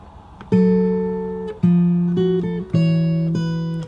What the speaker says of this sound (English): So you can hear that walking bass line there that I just mentioned